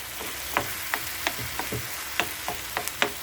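Garlic sizzles in a pan for shakshuka, a low crackling fry broken by sharp irregular pops and spits, close and fairly loud with no talking.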